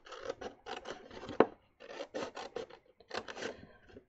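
Scissors snip into folded paper or card along the short sides up to a second fold line, giving close, rasping bursts of cutting in short runs separated by brief pauses.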